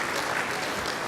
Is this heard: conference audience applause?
yes